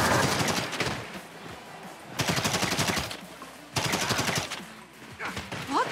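Rapid bursts of automatic gunfire in GTA V, three long rattling volleys separated by brief pauses, loud and close.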